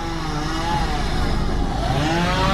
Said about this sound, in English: Somebody trimming their trees.